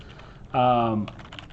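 Typing on a computer keyboard while searching in SketchUp. A few faint, quick keystroke clicks sit mostly after a short tonal sound in the middle.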